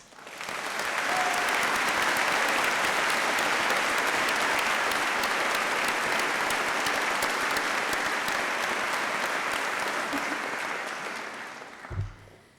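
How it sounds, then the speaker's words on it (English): Sustained applause from a large crowd at a university graduation ceremony, a dense, even roar of clapping that holds steady for several seconds before thinning out at the end. "please join me in giving them a warm round of applause"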